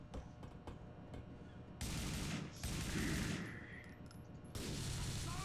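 GTA IV gunfire during a mod playthrough, a few sharp separate shots followed by loud sustained bursts of automatic fire that come in long, close, heavy volleys.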